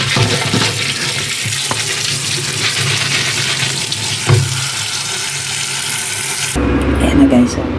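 Tap water runs steadily into a kitchen sink while an apple is rinsed under it, a constant close splashing hiss with small knocks and a brief shift near the end.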